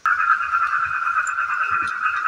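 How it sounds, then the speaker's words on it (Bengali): Frogs croak steadily and loudly in a dense, continuous chorus during rain, with no talking. "আর বৃষ্টি হচ্ছে বলে ব্যাঙগুলো খুব ডাকছে।"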